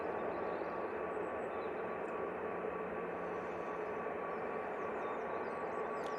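A Ryanair Boeing 737 MAX 8 jet at the end of the runway at Manchester Airport, a continuous loud broadband engine roar with a steady whine, heard outdoors from a distance.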